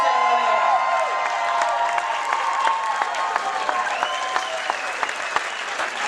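Audience at a comedy roast breaks into applause and scattered cheers, loud at first and thinning into sparser claps toward the end, with a few distinct near handclaps standing out.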